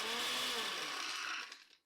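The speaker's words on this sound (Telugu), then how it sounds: "ఇప్పుడు ఈ పచ్చిమిర్చి కొత్తిమీరను కొద్దిగా గ్రైండ్ చేసుకుందాం" An electric mixer grinder whirs steadily while grinding green chillies and coriander with salt, running loud and smooth before winding down and stopping.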